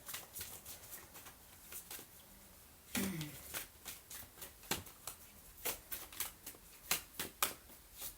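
Oracle cards being shuffled near the microphone with a quiet patter of crisp card flicks, a louder riffle partway through, then an even run of sharp slaps, with no one talking.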